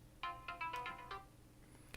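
A smartphone plays its ringtone after the button on a MYNT Bluetooth tracker is held down, a quick repeating electronic melody of bright chiming notes, faint and alone.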